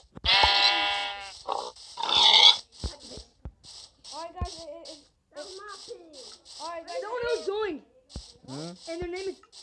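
Sheep in the Minecraft video game bleat several times in short nasal calls, interspersed with game sound effects and players talking over the top.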